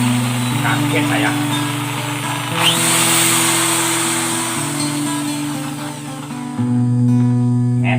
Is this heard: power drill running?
yes